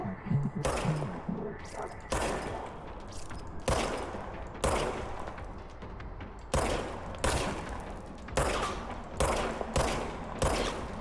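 Gunfire in the video game Control, heavy shots fired in a regular rhythm roughly every second, each loud blast cracking sharply and ringing out briefly, with faint talk underneath.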